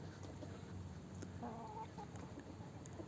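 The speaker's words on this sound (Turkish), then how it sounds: "Arkada Spektex Sussex tavuğu da görebiliyorsunuz." Faint, soft clucking from buff and speckled Sussex chickens in the middle, partly buried under steady background noise, with no voices.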